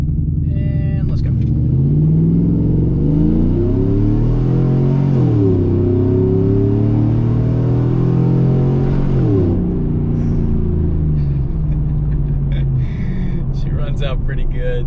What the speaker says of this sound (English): we're going to absolutely blast down this road up here to end off our data log